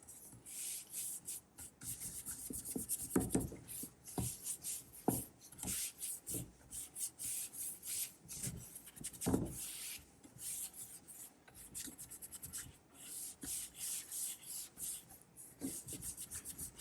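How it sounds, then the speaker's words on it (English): Dark wax is rubbed into the grooves of a wooden dresser, a close, repeated scratchy brushing and rubbing in irregular strokes with short pauses, no voices. "Now I'll be highlighting some of the grooves with dark wax."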